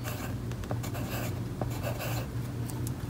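A pencil scratching a short word onto paper, a soft continuous rasp of small strokes, close and quiet against a faint low hum.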